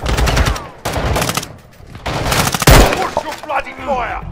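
Loud, close bursts of automatic gunfire from Call of Duty: Modern Warfare II (2022) come in rapid volleys broken by short pauses, with some talking mixed in.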